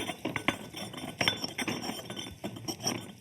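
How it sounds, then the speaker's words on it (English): Mortar and pestle grinding mustard, garlic and salt into a paste, with short scraping strokes and light clinks of the pestle against the bowl, close and fairly quiet. "The mortar and pestle breaks down the fibers in the garlic and will create a nice creamy paste"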